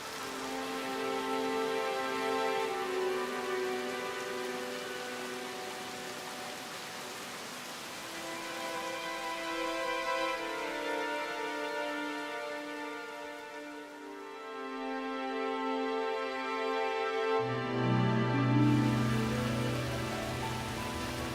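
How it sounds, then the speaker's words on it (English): Heavy torrential summer rain pours steadily through the Odaigahara beech forest, a dense, continuous hiss with no voices, while a sustained musical drone rises and shifts over it. "Summer is the season of heavy torrential rain"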